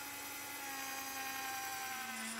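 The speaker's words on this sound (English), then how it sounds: "I'm drilling a hole through the piece of metal this way." Drilling through metal with a slot drill held in the chuck of a Myford ML7R lathe, a steady high-pitched whine with a faint humming tone running evenly throughout, quiet and without any talking.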